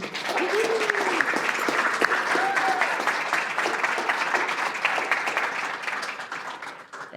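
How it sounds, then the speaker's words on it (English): Audience at a Creative Mornings talk in Tucson breaks into sustained applause for the speaker, a dense, even wash of clapping that holds for several seconds before tapering slightly, with faint voices mixed in. "And please, a round of applause for Kathleen Dreier."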